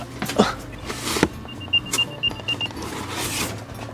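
An Apple AirTag sounds its locating chirp, a short run of faint high beeps heard a little way off among rustling and background noise, with no clear talking.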